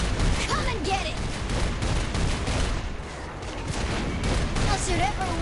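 Dense, continuous gunfire and explosions roll through a chaotic firefight in the video game Saints Row IV, loud and unbroken, with a voice shouting over the barrage.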